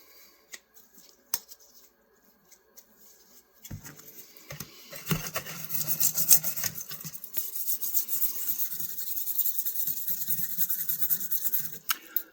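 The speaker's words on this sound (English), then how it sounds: "let's give the other guy a scrub. Got me my little wire brush here." A small wire brush scrubs a rusty vintage knife by hand, with sparse quiet taps at first, then dense, scratchy bristle strokes that keep going up close.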